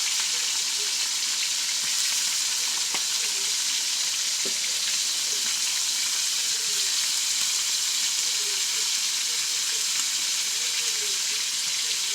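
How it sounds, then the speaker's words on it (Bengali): Tilapia fillets, rubbed with turmeric and salt, fry in hot oil in a pan with a steady, quiet sizzle and a couple of faint utensil taps, close and free of talk. "দেখেন এখন মাছটা আমি ভাজে নেব।"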